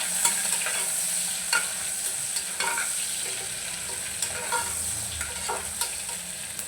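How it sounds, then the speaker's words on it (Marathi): Chopped onion sizzles steadily in hot oil in a home kitchen pan, frying toward a crisp reddish-brown, with a spoon stirring and scraping it at irregular intervals; close and continuous, no voices. "मग कांदा चांगला लाल होईल, खरपूस लाल भाजून घ्यायचा."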